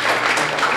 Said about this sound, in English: everybody give the volunteer mom a big round of applause.